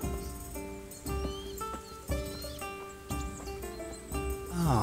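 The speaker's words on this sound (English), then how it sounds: "Ah, my faithful steed." A horse in Kingdom Come: Deliverance gives steady clip-clopping hoofbeats at an even walking pace, set against sustained tonal background music, with a brief whinny-like sweep at the end.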